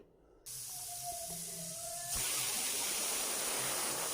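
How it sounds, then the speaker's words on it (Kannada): Pressure cooker whistling on the stove while pumpkin sambar cooks, a steady steam hiss that swells louder and brighter partway through and holds as a continuous rushing tone. "ಈಗ ವಿಸಲ್ ಕೂಡ ಹಾಕ್ತಾ ಇದೆ ನೋಡ್ತಾ ಇರ್ಬೋದು"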